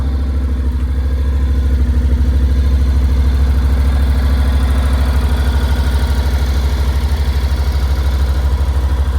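A 2025 Honda NC750X motorcycle engine runs steadily at close range, a loud, thumpy low rumble with an even pulsing beat that holds unchanged throughout, with no voices.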